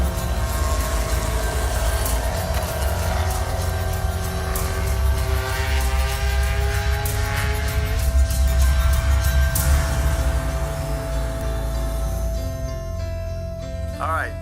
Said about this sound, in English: To hear the car run and to see him driving it at speed was topping it all off.